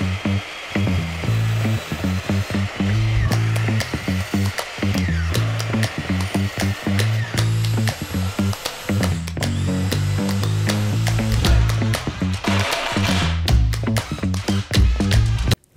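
Power drill driving screws to join 2x2 boards into a garage storage platform, a rapid series of whirring motor bursts that rise and stop in quick succession, close and fairly loud, with brief pauses between screws.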